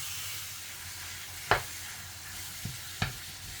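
Pork mince and onions frying in a pan hiss with a steady close sizzle, broken by three sharp stirring scrapes and pops.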